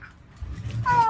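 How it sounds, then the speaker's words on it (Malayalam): A single short cat meow, close and clear, rising at the end of a brief moment of near quiet. "പൂച്ച പൂച്ച"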